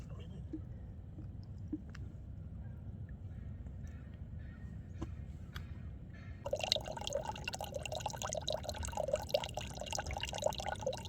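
Water runs out of a HydroBlu pressurized jerry can filter, a steady low trickle that turns into a louder, brighter splashing stream partway through, close by.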